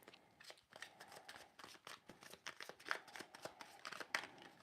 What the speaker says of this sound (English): Let me shuffle the cards, and then I'm gonna read.